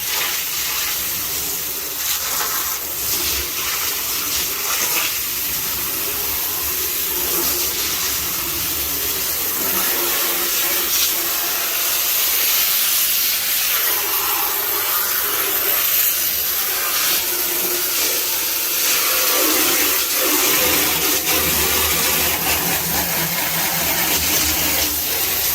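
A hose spray washing out a chicken coop on a small homestead, a continuous loud hissing rush of water that shifts slightly in tone as it hits different surfaces, with no talking.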